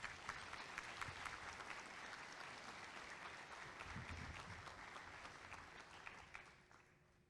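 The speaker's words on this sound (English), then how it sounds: "let's give Danny a big round of applause" A luncheon audience gives a sustained round of applause, steady dense clapping at moderate distance that holds evenly before tapering off at the end, with no talking over it.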